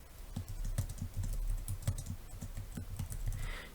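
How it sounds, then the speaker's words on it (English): Rapid, uneven typing on a computer keyboard while editing text in a photo editor, close and clear, with steady clicking keystrokes filling the whole stretch and no talking. "and then type what you like."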